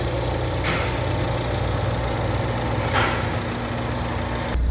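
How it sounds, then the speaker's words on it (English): A car engine idles steadily with a continuous low rumble and hum, close by, unchanging from start to finish. "Okay, with the motor running."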